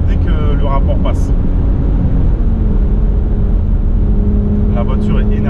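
A Porsche Macan Turbo with the Performance Pack accelerates hard, its engine droning loud and steady inside the cabin with a gear shift partway through, while someone speaks over it.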